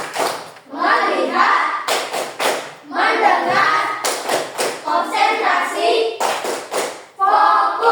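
A class of children claps the short rhythmic tepuk fokus routine, sharp bursts of hand claps in quick sets alternating with chanted voices of the teacher and pupils.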